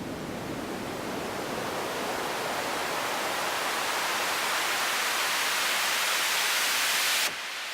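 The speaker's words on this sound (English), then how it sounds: "I can actually create a nice detailed ramp that I want this white noise to follow." A white noise riser transition effect for EDM swells steadily louder and brighter along a volume ramp, a dense hiss that climbs for about seven seconds before cutting off abruptly.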